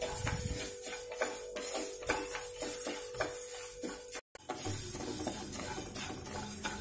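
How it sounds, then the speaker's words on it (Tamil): Pearl millet (kambu) dry-roasting in a pan, with faint crackling, small pops and the scrape of stirring in a steady rhythm, quiet and close, with no talk. "கம்பு நல்லா பொரிஞ்சு வர ஆரம்பிச்சிடுச்சுங்க"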